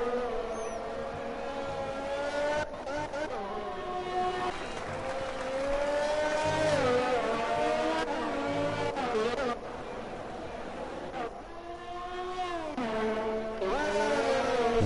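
Formula 1 race cars in a racing video game set in Canada, engines whining and shifting through gears with rising and falling pitch, loud and continuous across the clip, with commentary talk underneath.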